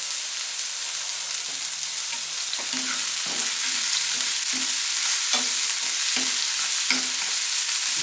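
Onions frying in a pan with chicken stew ingredients, a steady broadband sizzle with soft intermittent scrapes and knocks of stirring throughout, close and continuous, no voices.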